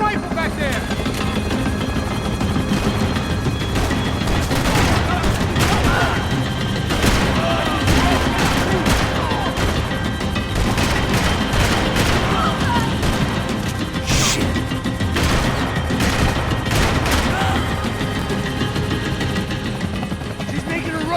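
Gunfire and crashes from the action game Max Payne 3, with bursts of shots and impacts over a dense, steady roar like a helicopter, while voices shout through the ongoing chaos.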